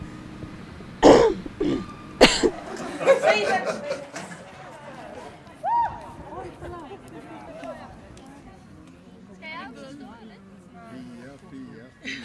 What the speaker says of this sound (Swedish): Jag måste hosta till.